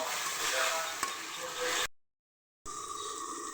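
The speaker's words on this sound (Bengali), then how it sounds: "এভাবে শুধু কষাতে থাকবো অনেক সময় ধরে।" Potatoes sautéed with spices in a pan, stirred steadily: a soft, even sizzle with occasional scrapes, broken by a brief silent gap before the frying resumes.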